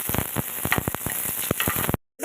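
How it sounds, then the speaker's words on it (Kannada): Onion, ginger, garlic, cinnamon and clove frying in a pan for enne badanekai, crackling in close, rapid bursts with stirring before abruptly cutting out. "ಫ್ರೈ ಮಾಡ್ಕೋಬೇಕು."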